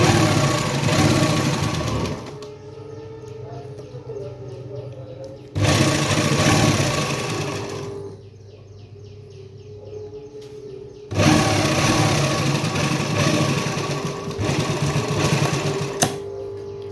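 A sewing machine stitches an embroidered kameez in loud sustained runs of rapid needle clatter, separated by quieter pauses where a softer motor hum continues, close and without talk.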